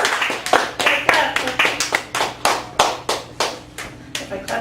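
Audience clapping at a Chicago poetry open mic in a cafe gallery, a sparse group of hands beating out distinct rhythmic claps, fairly close and even, repeating steadily without a voice over them.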